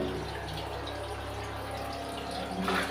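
Strong water flow beneath ground in a layered deposit, a steady continuous rushing and gurgling wash at moderate level with no voices.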